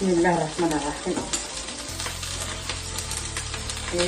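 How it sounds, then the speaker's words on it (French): Butter melting and sizzling in a hot pan with noodles for stir-fried noodles with scampi and vegetables, a steady close crackle with a few clinks early on and no talk. "Et voilà mon beurre qui est en train de fondre"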